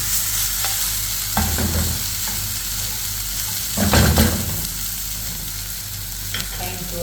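Basmati rice stir-fried with sautéed vegetables in a pan, a continuous loud sizzle with occasional scraping stirs and clatter, the hiss steady throughout.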